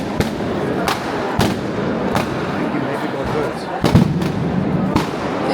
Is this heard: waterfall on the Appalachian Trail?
no